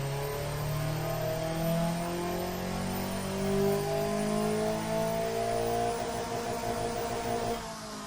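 A car engine idles and revs steadily in the Automation car-building game, an eco sedan of 2005 with a decent but low-output engine, a smooth mid-pitched drone with rising and falling tone, loud and alone.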